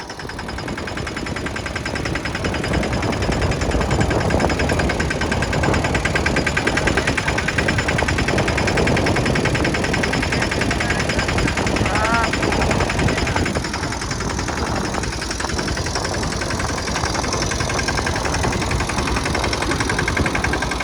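A mini tractor engine chugs loudly and steadily nearby while sowing groundnut, a continuous rough mechanical drone with no pauses.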